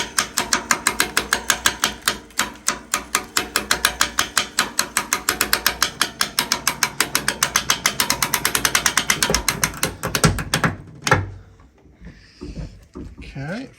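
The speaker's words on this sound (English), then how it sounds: "the winch works." A powered boat winch winds in a rusty steel cable, making a loud, fast, regular ratcheting clatter for about ten seconds before it stops, with a few clunks afterward and speech heard alongside.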